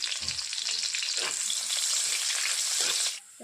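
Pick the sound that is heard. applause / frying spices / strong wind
frying spices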